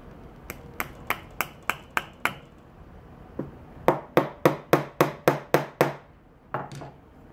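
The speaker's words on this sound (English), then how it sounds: "you're going to just tap that nail in, leaving it hanging over the edge" Hammer tapping a steel nail into a wooden block, in two bursts: a run of seven light, evenly spaced taps, a pause, then seven firmer, louder taps and a final pair, close and clear with no talking.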